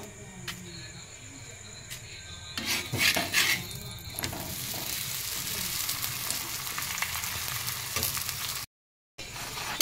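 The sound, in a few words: semolina potato paratha frying in ghee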